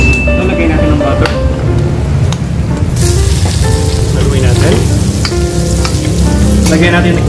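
Garlic and butter sizzling loudly in a pan over low heat, a dense, continuous close frying hiss with occasional stirring scrapes, while someone talks over it.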